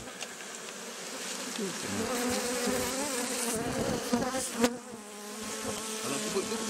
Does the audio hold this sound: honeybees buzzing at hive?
yes